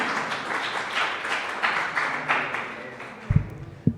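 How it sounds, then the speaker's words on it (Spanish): Audience applause at a social vulnerability seminar, greeting Licenciado Marcelo Guardia as he comes up to speak; steady moderate clapping fades toward the end, closing with a few close taps and knocks. "un fuerte aplauso para el licenciado Marcelo"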